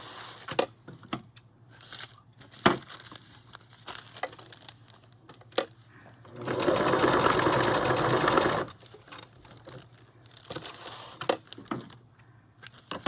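A sewing machine stitches the two sides of a glassine pocket in one steady whirring run of about two seconds, surrounded by scattered clicks and handling taps of paper and craft materials.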